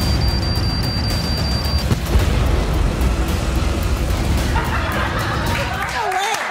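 A loud, rumbling explosion in a game-like scene, a dense sustained blast with crackling debris, followed by chaotic shrill squawks and sweeping tones toward the end.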